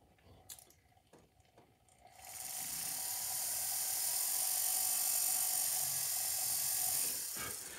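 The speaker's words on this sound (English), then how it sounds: "I'm just going to drill a straight hole through the wax" A steady high-pitched whirring of a small drill boring a straight hole through carving wax for a signet ring runs continuously for several seconds after a few faint clicks, then tapers off at the end.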